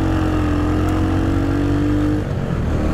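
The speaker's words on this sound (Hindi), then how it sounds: "जब मैं इस बाइक को खींच रहा हूँ ना, जैसे देखिए" A Royal Enfield Hunter 350 motorcycle engine is revved hard and sounds unrefined, as if overdue for service: a loud, close, steady engine roar with a rising tone that drops off near the end.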